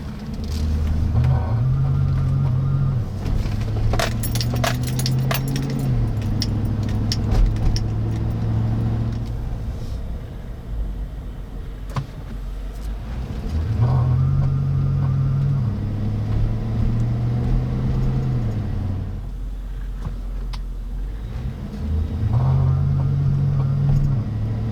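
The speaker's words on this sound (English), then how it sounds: "did you guys hear that weird low pulsing noise?" A 1999–2006 GM full-size truck with a bad wheel bearing gives a low, droning pulse that swells and fades in repeating waves over steady road rumble while the truck drives.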